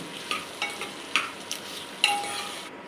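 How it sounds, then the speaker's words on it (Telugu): A ladle stirs mint rice with green peas in a pan, giving soft scraping strokes in an uneven rhythm over a faint sizzle, close by and fairly quiet with no talking. "మరొకసారి గరిటతో బాగా తిప్పుకోవాలి"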